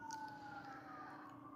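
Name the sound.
emergency vehicle sirens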